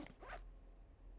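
A quick zipper zip sounds as a character talks in the video game RUNT, one short brisk pull near the start followed by quiet, with no spoken voice.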